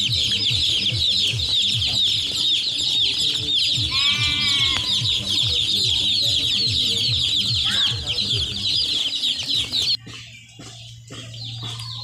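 Broiler chickens in a brooding pen cluck and cheep constantly while walking and pecking at feed, a dense, busy chorus close by with occasional louder calls, thinning out near the end.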